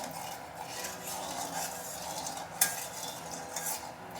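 Prawns frying in hot oil in a village-style Bengali kitchen, giving a continuous moderate sizzle with soft stirring and one sharp metallic tap midway, heard close with no talking.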